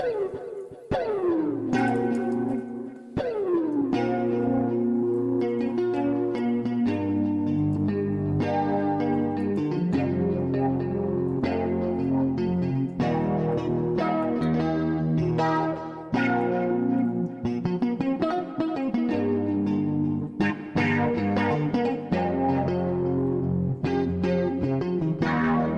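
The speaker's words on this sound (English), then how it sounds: "Give me some reverb." Reverb from Reason 13 music software washes over sustained, bell-like synth chords, building a dense wall of sound with long echoing tails that stays loud and continuous.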